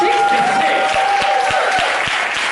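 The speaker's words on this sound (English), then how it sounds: "Can we have a round of applause for my parents, please?" A comedy show audience claps enthusiastically with some cheering, steady applause running throughout before it starts to thin near the end.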